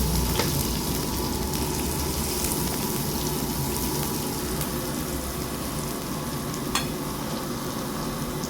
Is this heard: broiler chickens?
no